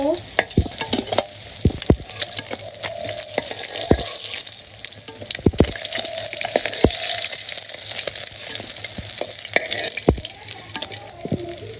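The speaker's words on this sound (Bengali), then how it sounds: "তো আমার মাছ ভাজা এখন নামিয়ে নিব।" Fish frying in a pan in a village kitchen: a loud, continuous crackling sizzle broken by sharp pops and spatters, close up and with no voices.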